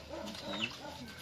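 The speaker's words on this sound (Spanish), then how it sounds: "Entonces ya van. Ya son gallinas" Backyard hens cluck softly nearby, a few quiet, rapid warbling calls over a faint outdoor background after a storm.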